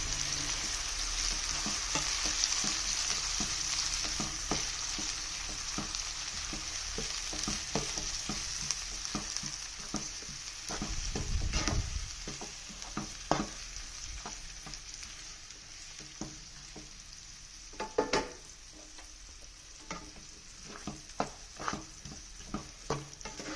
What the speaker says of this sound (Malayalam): ഇനി നമുക്ക് അതൊന്ന് വരട്ടി കൊടുക്കാം